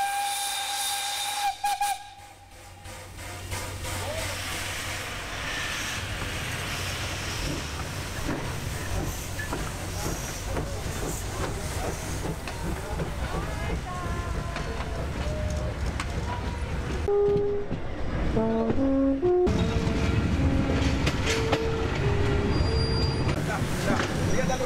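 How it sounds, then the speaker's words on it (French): A large Y150 steam locomotive on a tourist railway passes with a loud sustained hiss of steam and a long whistle, later joined by rumbling wheels and rising tonal squeals as it goes by close, with a voice speaking over part of it. "Nous venons de croiser une très grosse locomotive. C'est la Y150 du conifère."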